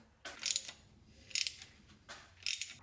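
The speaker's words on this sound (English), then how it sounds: "Let's see if a tiny little pipe wrench can do this." A tiny pipe wrench works on stubborn bolts on a damaged ZX14 motorcycle engine. Three short bursts of close metallic clicking and ratcheting are separated by near silence.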